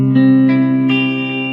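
Guitar barre chord rooted on the fifth string, in an alternate tuning, strummed with a slight effects-like shimmer; three quick strums ring out close and clear, then sustain and fade over a second and a half, no voices.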